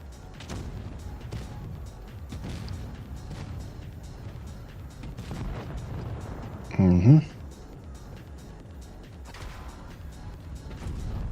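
A tank gun fires once in World of Tanks, a sharp loud boom at mid-clip amid game noise, with someone talking over the match.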